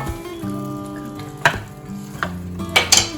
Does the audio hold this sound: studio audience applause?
no